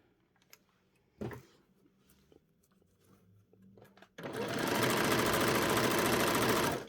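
A sewing machine runs a steady straight stitch joining a skirt to a bodice, a loud continuous whir that starts abruptly after a few quiet clicks and fabric handling.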